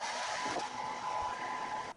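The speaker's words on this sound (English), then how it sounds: "to help speed things up, I use this hair dryer" A steady whooshing blow of a hair dryer on its cold setting with a faint high whine, running evenly before cutting off abruptly at the end.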